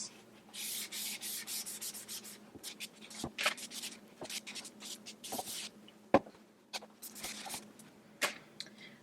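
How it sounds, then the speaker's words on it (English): A dry towel rubs and wipes chalk off a surface in short, repeated scrubbing strokes with brief pauses, close and fairly soft, with no talking. "you probably have a dry towel handy to wipe down the excess"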